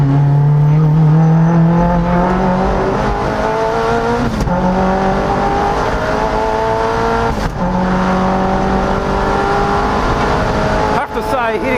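The engine of a 300-horsepower Mazda Miata race car on a time-attack circuit at Sandown howls loudly from inside the cabin. Its revs climb and drop through shifts, including a downshift to third gear, while the driver talks over it.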